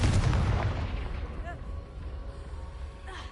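A fiery Confringo spell blast in Hogwarts Legacy lands as a loud, close boom at the start, then rolls off into a long rumbling decay. A spoken incantation comes just before.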